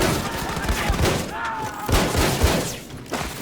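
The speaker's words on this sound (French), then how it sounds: "le fusil à pompe, je suis obligé de vous le montrer" A fusillade of loud gunfire, including shotgun blasts, sounds in a French first-person shooter video game, with dense repeated booms and some game noise.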